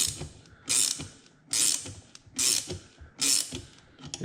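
A puller is screwed down by hand to remove the alternator pulley on a Ferrari 308, giving five loud, regular ratcheting clicks close up with quiet gaps between.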